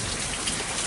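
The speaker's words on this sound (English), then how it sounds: "it's pouring rain right now" Heavy rain pouring down in a steady, dense, unbroken hiss of close drops, with no voices.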